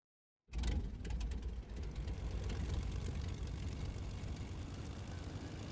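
Aircraft engine drone from a plane in the Fortnite video game, starting abruptly and holding a steady, loud, broadband roar with no voices.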